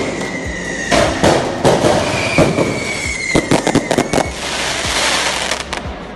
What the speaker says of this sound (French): les Catalans ont poursuivi leur pression en allumant des feux d'artifice devant l'hôtel des joueurs parisiens.